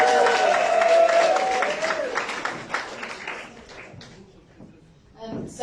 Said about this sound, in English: Round of applause, cheers, come on.